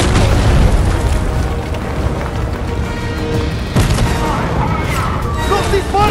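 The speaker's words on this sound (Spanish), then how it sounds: "¡Nos disparan!" Gunfire and booming explosions in the video game Fortnite, a dense continuous barrage of blasts and shots filling the whole stretch, loud and close.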